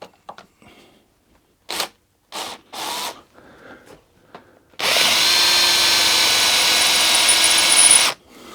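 Power drill with a 7.5 mm left-hand drill bit drilling out a bolt in a Harley-Davidson Sportster fork: a few short whirring bursts, then one sustained loud drilling run of about three seconds, close up.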